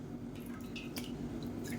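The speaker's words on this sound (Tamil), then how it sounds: "இந்த ப்ரெட்டை வந்து நம்ம ஒன்றுன்னா தண்ணியில் நனைச்சி நல்லா புழிஞ்சிட்டு இன்னொரு பவுலில் சேர்த்துக்கலாம்" Soaked bread slices are squeezed by hand over a bowl, giving soft wet squishes and dripping water in a few brief bursts, close and fairly quiet, with no talking.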